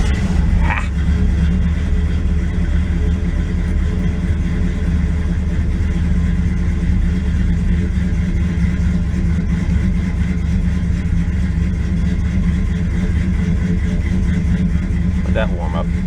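A 1967 Plymouth convertible's engine warms up and idles with a steady, loud low rumble that holds throughout, while a person speaks over it.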